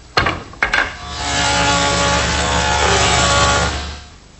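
A table saw cuts grooves in wood pieces: two short bursts as the blade meets the stock, then a loud, steady whine lasting about two and a half seconds before it tapers off, with no talk.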